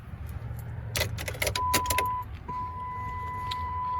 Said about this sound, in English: then put the keys in.